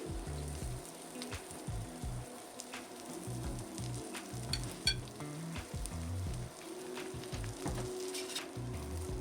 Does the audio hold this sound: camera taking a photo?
no